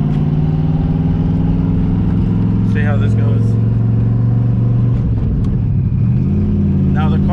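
A twin-turbo Ford Mustang engine drones loudly and steadily while driving, its pitch rising and falling as it revs, with a short spoken remark over it.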